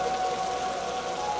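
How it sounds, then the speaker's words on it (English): Steady rain falling over a town, a soft, even patter and hiss with a faint sustained tone running beneath it. "rain slides down the glass in long, wandering lines"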